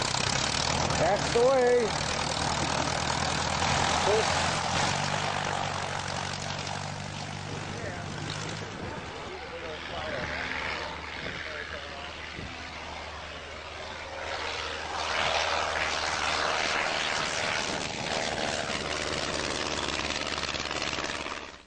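A propeller airplane engine rumbles steadily after start-up on a hot day at Brodhead Airport in Wisconsin, loud and continuous throughout, with people talking over it at times.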